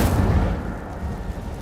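Incendio fire spell cast in Hogwarts Legacy, a loud low whooshing burst that rumbles and fades over about a second and a half, with no talk.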